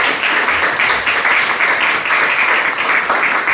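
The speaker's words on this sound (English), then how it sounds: "I would also like to give another round of applause for such a wonderful activity" Loud, sustained applause from a room full of people, dense overlapping claps at an even level from start to finish with no talk over it.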